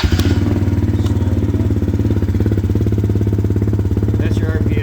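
Small 2022 Polaris Outlaw 110 EFI youth ATV engine idling steadily up close, a continuous low rhythmic chug with a faint mechanical clatter, running alone without talk.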